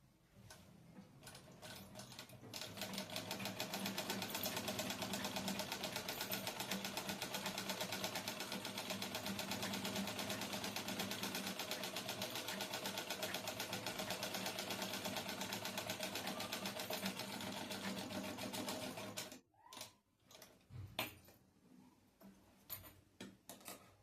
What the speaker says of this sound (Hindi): इसके बाद अब इसमें हम लोग सिलाई चला देंगे